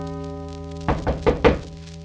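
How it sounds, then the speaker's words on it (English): Three heavy knocks on a wooden street door in an audio drama, spaced in an uneven rhythm over a steady low musical drone, close and fairly loud. "And there came a knocking at the street door."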